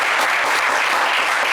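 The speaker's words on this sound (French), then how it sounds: "on vous applaudit également très fort." A studio audience on a French television game show bursts into loud, dense applause, a continuous wash of clapping filling the whole moment without any voices over it.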